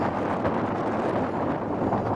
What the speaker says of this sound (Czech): Tady je zima, vítr, žádná pohoda.